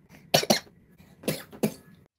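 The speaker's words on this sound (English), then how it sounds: "Whole lot of coughing going on." Two pairs of quick, harsh coughs close by, each pair a double burst, separated by a short pause.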